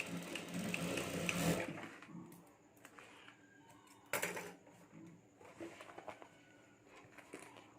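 Sewing machine stitching a clutch purse: a short, fairly loud whirring run at the start, followed by quieter fabric handling, clicks and brief bursts of machine noise, with faint talking now and then.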